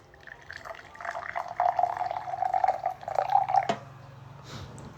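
Hot water is poured into a cup to make tea, a soft, rising trickle of liquid that runs for several seconds before stopping, fairly quiet and with no talk.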